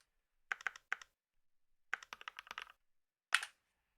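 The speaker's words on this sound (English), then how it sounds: "you can hear the sound of me clicking on the keyboard" Computer keyboard keys clicked in short, sparse clusters, close and crisp against near silence, with a single sharper final click after a pause.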